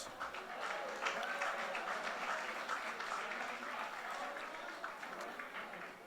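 Audience at a USA Boxing Alumni Association Hall of Fame induction reception clapping in a room, sustained dense applause for several seconds without pause.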